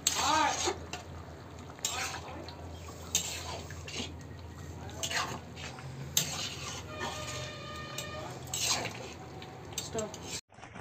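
Food being stirred and mixed in a pot for a puja bhog, with scraping and clinking of a utensil against the metal alongside a faint sizzle and some background voices, steady across the whole stretch before an abrupt stop.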